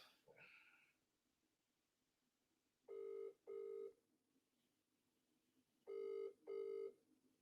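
A telephone rings in a room, two pairs of short electronic ring bursts separated by a pause, clear and moderately loud against a quiet background, with a brief voice sound at the start.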